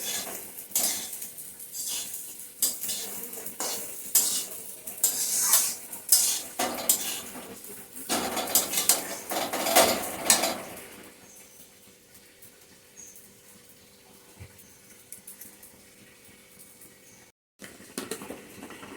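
Lakshmibhog rice is fried and stirred in a pan, with rhythmic scraping and clinking of a spatula over a soft sizzle, loud and busy at first and then fading to a quieter hiss.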